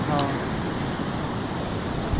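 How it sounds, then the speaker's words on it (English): Ocean surf breaks on a beach in Vietnam as a continuous broad wash of waves, mixed with wind buffeting the microphone, loud and close. "But look at the waves, damn."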